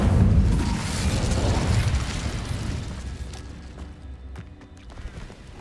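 A fiery Incendio spell is cast in the game Hogwarts Legacy, opening with a loud, rumbling burst of flame that rolls on for about two seconds and then fades into quieter crackles and small clicks.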